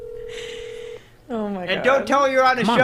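A telephone call in progress: a steady tone and brief dialing beeps, then the line breaks into a ringing pattern, with people talking over it nearby.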